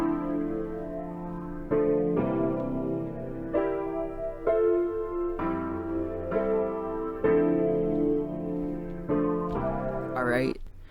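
A synth melody with its pitch shifted upward plays as a series of distinct held notes in steady steps for about ten seconds, ending in a rising swoop.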